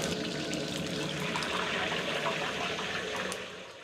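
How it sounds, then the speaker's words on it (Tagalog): Cooked chicken feet being soaked in cold water give a steady, dense rush of running or pouring water, fairly faint and continuous, easing slightly at the end. "At ibinabad sa malamig na tubig."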